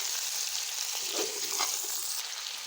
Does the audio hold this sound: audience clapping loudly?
no